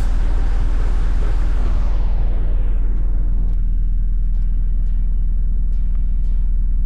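A car in Car Mechanic Simulator 2018 drives over a test track with a steady, loud low engine rumble that runs unbroken throughout, and a brighter layer of road noise fades away partway through.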